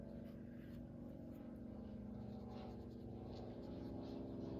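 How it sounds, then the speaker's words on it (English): An airplane passes overhead as a low, steady engine drone that fills the whole stretch at an even, moderate level, with no talk. "Oh, you probably hear that plane."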